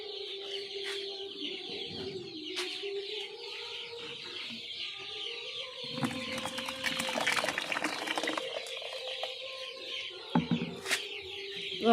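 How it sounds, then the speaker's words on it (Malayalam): Liquid poultry feed mix with added vitamin supplement is poured into another vessel, a brief splashing pour midway, while hens cluck and call nearby throughout. "നമുക്കൊരു വേറൊരു പാത്രത്തിലോട്ടൊന്ന് ഒഴിച്ച് നോക്കാം."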